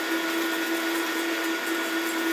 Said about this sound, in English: Give that a nice whisk.